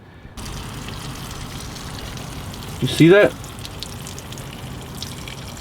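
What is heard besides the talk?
dirty water draining from K&N air intake filter rinse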